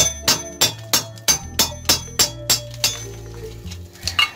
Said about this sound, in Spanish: ahora sí se le vamos a tumbar el pedacito, pero ya con un cincelito